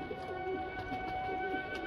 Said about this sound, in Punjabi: ਇਹ ਸ਼ਾਹ ਪਰਵਾਜ਼ ਕਬੂਤਰ ਆ ਭਾਅ ਜੀ।